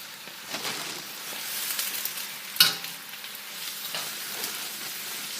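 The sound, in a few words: stirring spinach in a cooking pot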